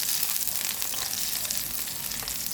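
Pork stir-frying with chili in a hot pan, a steady close hiss and crackle of sizzling oil running unbroken with no talk.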